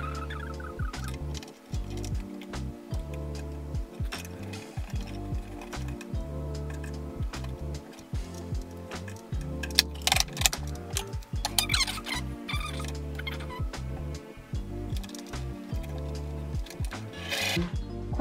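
A home sewing machine running in short bursts, its rapid mechanical ticking and patter starting and stopping close by, with a few louder clunks as it catches.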